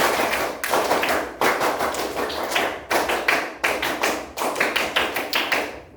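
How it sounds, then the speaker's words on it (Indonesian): Schoolchildren in a classroom doing the rhythmic scout clap (tepuk pramuka) in unison, repeated patterned bursts of sharp claps and thumps separated by short pauses, performed twice, loud and close. "Tepuk pramuka 2 kali."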